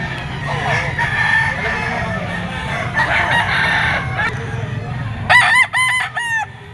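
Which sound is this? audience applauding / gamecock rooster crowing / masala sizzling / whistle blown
gamecock rooster crowing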